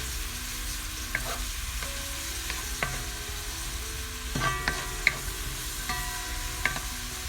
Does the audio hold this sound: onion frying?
yes